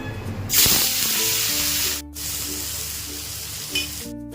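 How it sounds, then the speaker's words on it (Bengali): Prawns hit hot mustard oil with a sudden loud burst of sizzling that settles into a steady close crackling hiss, briefly dropping out twice, with no voices. "তেলটা গরম হয়ে গেছে, মাছটা দিয়ে দেবো।"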